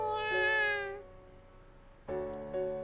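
A kitten meows in a visual novel game, first with a long drawn-out mew and then, after a short pause, with two shorter, bright cries, all close and clear with no talking.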